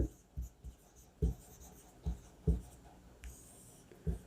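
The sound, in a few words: pen writing on paper or board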